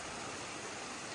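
Water in a stream along the Appalachian Trail in Vermont rushes in a dense, even wash of noise that holds steady throughout, with no voices.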